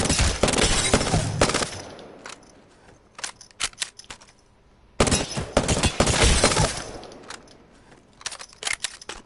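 Gunfire in the video game Apex Legends, from a gun with no attachments: two loud, dense bursts of rapid shots, each tapering into scattered single cracks.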